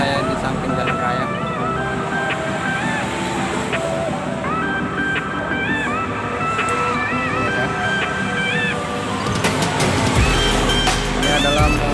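Traffic passing on a busy main road beside a used-car showroom in Karangbaru, Aceh Tamiang, a steady loud roar of vehicles under a person talking close by.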